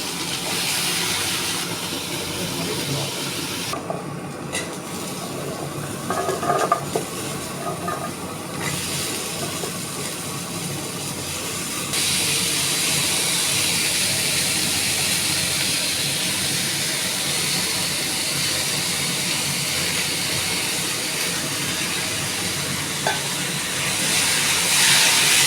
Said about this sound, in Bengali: কাবলি ছোলার তরকারির আলু ভাজা হচ্ছে